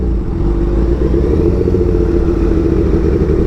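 Kawasaki Ninja H2 motorcycle engine on a test ride, a loud continuous low rumble with a rough, pulsing texture that holds steady throughout, heard close with no voices.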